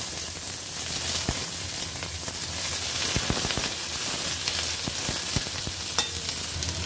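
Cut flat beans fry in hot oil with black cumin, a steady sizzle broken by sharp clicks and scrapes from stirring, fairly close and with no talk.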